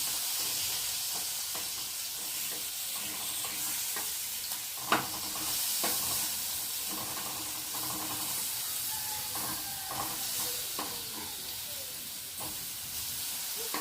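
A steady sizzle and hiss of potatoes frying in hot oil in a pan, with occasional clicks and scrapes of stirring, no talking.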